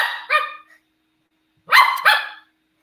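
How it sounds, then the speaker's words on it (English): A dog barks twice in close succession, pauses, then gives two more sharp barks, all loud and near with no talking over them. "Why you barking at me?"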